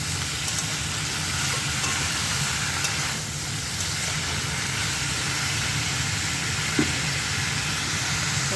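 Banana stem ghonto sizzles in oil as it is stirred and fried, a steady close hiss with faint scraping and no talk.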